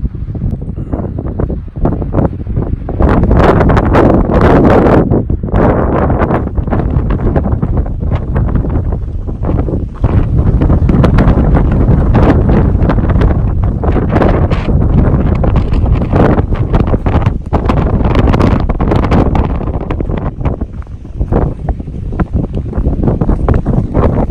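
A long stretch of loud, howling wind rushes and buffets without pause, surging in strong gusts on a cold Pacific Crest Trail evening between Santiam Pass and Government Camp, with no voices.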